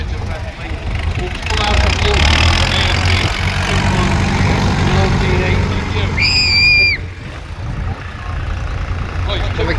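A Case tractor with a two-door cab rumbles past in a show tractor parade, a steady loud engine drone with crowd noise and voices over it throughout, plus a brief high whistle-like tone near the end.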